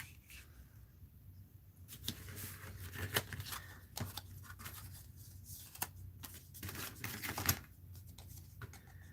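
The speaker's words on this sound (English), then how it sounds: "I'm going to fold this in half." Paper being folded in half for a heart art craft, with soft crinkling, sliding and creasing rustles that come in bursts close to the mic over a quiet room background.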